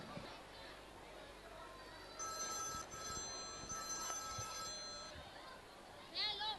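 A telephone rings with a repeating electronic tone for about three seconds, cutting through a murmuring crowd at a school annual day event, with voices chattering underneath.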